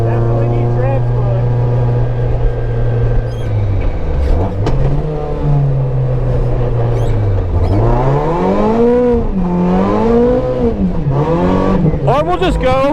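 A car on a snowy raceway at Pocono during a sighting lap, its engine droning loud and close with rising and falling revs, tone sweeping up in the second half under occasional talk.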